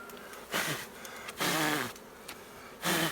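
Bees buzz around a log hive as honey is cut from it, swelling in three loud, close passes of droning hum between quieter stretches.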